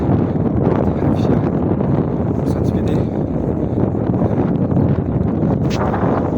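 Loud, continuous wind roars and buffets the microphone outdoors, with faint muffled voices underneath.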